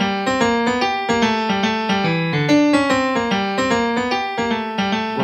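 A keyboard plays a quick melodic lick in a swing rhythm, its notes bright and close in a lilting long-short pattern, with no talking.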